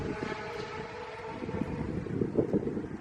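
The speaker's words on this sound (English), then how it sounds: "Wait for this wind gust to go" A wind gust blowing steadily outdoors, a broad rushing roar that swells slightly near the end and stays fairly close and constant throughout.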